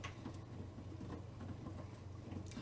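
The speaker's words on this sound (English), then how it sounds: "it's because it's raining outside." Steady, soft rain patters outdoors in Minecraft, a faint continuous hiss with scattered drips and no voices.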